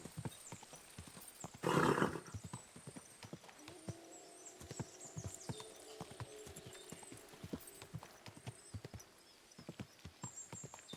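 A horse in the medieval video game Kingdom Come: Deliverance 2 gives a short loud whinny early on, followed by steady soft hoof clip-clops and faint ambient tones continuing throughout.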